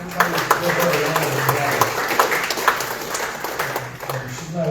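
Audience at a Tea Party meeting giving a round of applause, steady scattered clapping from a modest crowd over a few seconds with speech mixed in.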